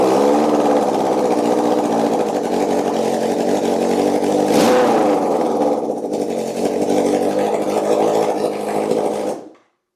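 A Honda CB750 motorcycle engine, running without its exhaust fitted, idles loudly and steadily, swells once in a brief rev midway, then cuts off abruptly near the end.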